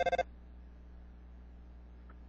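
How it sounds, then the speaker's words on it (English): A phone in the Undertale video game rings with a quick burst of three or four bright electronic beeps at the very start, followed by a faint, quiet background hum. "Someone's calling you."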